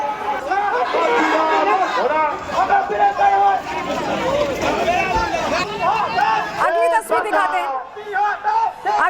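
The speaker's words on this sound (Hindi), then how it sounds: "भीड़ पूरा हो, हंगामा करते हुए पूरे रास्ते पर जा रही है।" A protest crowd surges along a street in Birbhum, many voices shouting and chattering at once in a loud, dense uproar, with a brief sharp dip before the clamor resumes.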